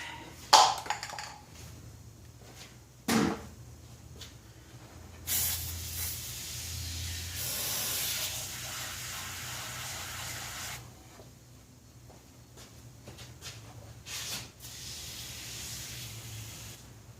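Bursts of aerosol degreaser spray hiss onto the engine of a 1966 Ford F100 truck, a couple of short blasts and then longer sustained sprays, fairly close, with no talking.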